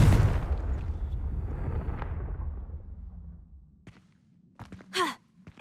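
A Confringo fire spell in the game Hogwarts Legacy bursts with a loud blast that decays into a rumbling fade over a few seconds. A few faint clicks and a short vocal sound come at the end.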